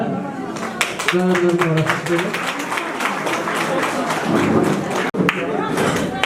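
Applause rises at a cooperative savings and credit society's twelfth annual general meeting, a steady crowd of hands clapping throughout while someone speaks over it.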